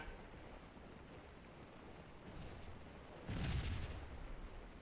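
Gunfire from a Civil War battle at Gettysburg in the Scourge of War video game: a quiet, distant rumble of musket fire, with a denser, louder volley swelling near the end over a steady battlefield hiss.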